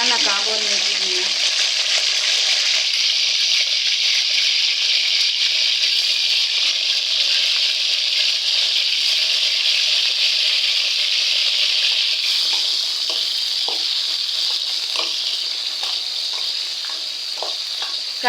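Brinjal (eggplant) pieces frying in oil in a pan, a loud, steady hiss of sizzling that runs unbroken throughout, with occasional small clicks of stirring.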